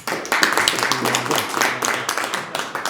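A short burst of lively applause from a small crowd, many hands clapping close by, with a brief voice mixed in.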